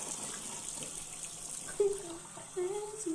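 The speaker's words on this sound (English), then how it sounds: "Finish washing this off my face." A tap runs steadily into a sink while a face is rinsed, a close hissing water stream with soft splashes, and a voice hums or sings a short melody over it.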